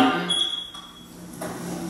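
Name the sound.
smoke detector alarm being tested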